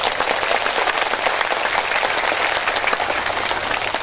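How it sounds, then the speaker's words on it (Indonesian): A crowd at a pesantren (Islamic boarding school) gathering claps loudly and steadily, dense and sustained for about four seconds with no break. "Tepuk tangan nih buat pesantren kita nih."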